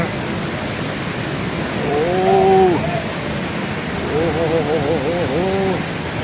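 Rushing water at Hogenakkal Falls makes a constant broad roar, with cattle mooing faintly in the distance partway through.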